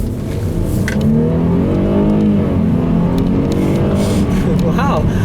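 A 2010 Mercedes-Benz E350 4Matic with a V6 accelerates along a back road, its engine note climbing steadily and loud from inside the cabin, with a brief higher whine near the end.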